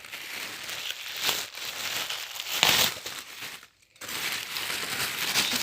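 Plastic packaging bags crinkling and rustling as they are pulled open to get at small doilies from a charity-shop find, a steady close-up crackle with a brief pause midway.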